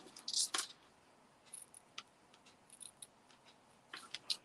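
Ribbon snipped with scissors at a crafting table: a couple of crisp, close cuts at the start, then faint scattered ticks and a few more quick snips near the end, with no talk.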